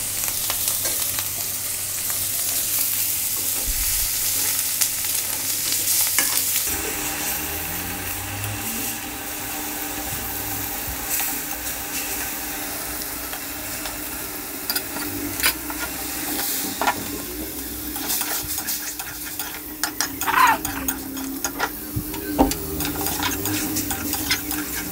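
Washed Kajoli river fish from the Jamuna are stir-fried in a pan, with continuous sizzling and scraping stirring strokes. A faint engine-like hum runs in the background, and no voices are heard.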